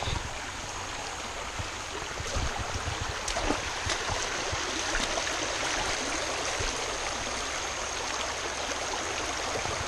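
Continuous rushing and babbling of a flowing stream, steady and fairly close, with no voices.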